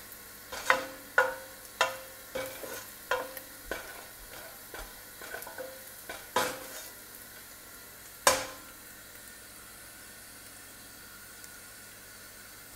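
Carbonara sauce sizzles faintly in a pan under a steady hiss as a utensil scrapes and taps against it in about a dozen sharp strokes, fairly regular at first and then sparser.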